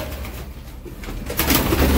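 Pigeons kept by a breeder coo close by, with soft low warbling calls that swell louder toward the end, against some background rustle.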